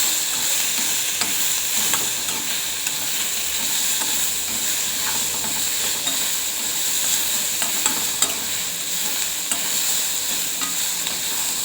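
Cluster beans (guar) are lightly dry-roasted in a pan, giving a steady hissing sizzle with scattered clicks and scrapes of stirring throughout.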